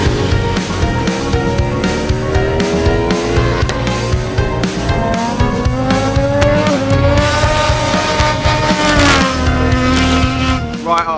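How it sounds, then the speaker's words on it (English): Triumph Daytona 675R superbikes racing on a dry track, a loud continuous engine roar with rising and falling revs as the bikes pass close. "It's the perfect place to test these super bikes."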